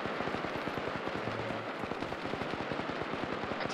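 Rapid automatic gunfire in an Arma 3 battle, a steady stream of sharp shots at a fast even rhythm throughout, loud and close, with no talk over it.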